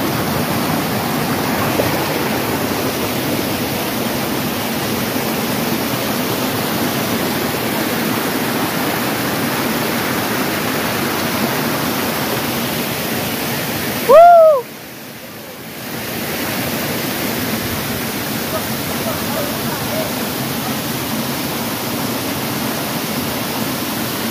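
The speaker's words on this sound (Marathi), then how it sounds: "हे असं डोंगरातून पाणी येतो आणि असं खाली" Monsoon waterfall near Tahuli hills with water rushing down the slopes, a steady broadband roar, with a brief whistle-like chirp and dip around the middle.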